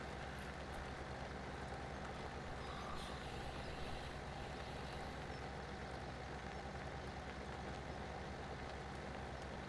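Truck driving into a hall in Farming Simulator 17, a steady low engine drone with faint high beeps and a hiss, continuous and quiet.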